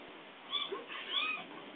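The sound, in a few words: child imitating a cat meowing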